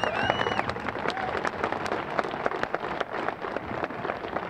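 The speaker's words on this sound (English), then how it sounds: "we should clap for Mission Hill" Scattered audience applause outdoors at a community garden ribbon cutting for Mission Hill, dense clapping mixed with crowd murmur and a few whistles or voices, moderately loud and continuous.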